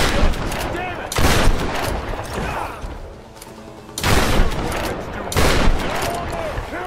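Bursts of gunfire from Tomb Raider (2013) come in three loud, dense volleys with quieter gaps between them, and someone shouts briefly among the shots.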